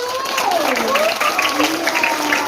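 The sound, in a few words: applause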